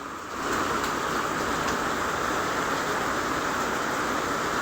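Heavy rain pouring steadily close by at home, a dense, loud, unbroken hiss that holds level from start to end.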